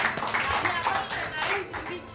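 Studio audience clapping on a Pakistani morning television show, a short patter of hands under background noise lasting about two seconds.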